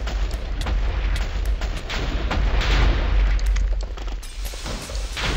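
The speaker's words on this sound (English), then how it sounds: "the explosion without any upgrades is pretty weak" An explosion set off by a class ability in Hypixel Minecraft, heard as a loud, sustained rumbling blast with repeated sharp crackling bursts over a deep low roar.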